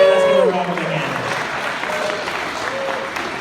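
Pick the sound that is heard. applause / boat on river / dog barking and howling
applause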